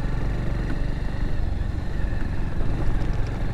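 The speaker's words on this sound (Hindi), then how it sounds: "अभी एक दो गियर के साथ इंजन बहुत हीट हो रहा है।" Motorcycle engine running hot in low gear while riding on a road, a steady close engine drone with dense low rumble throughout and no talking.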